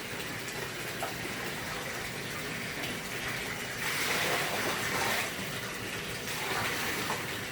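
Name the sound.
potassium permanganate solution being poured into a koi pond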